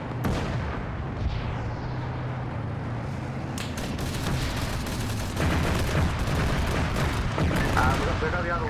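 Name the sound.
gunfire at a tank in Arma 3 video game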